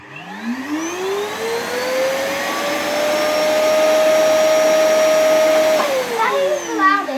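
A Hoover vacuum cleaner spins up with a rising whine, holds a loud, steady tonal roar at close range, then winds down near the end.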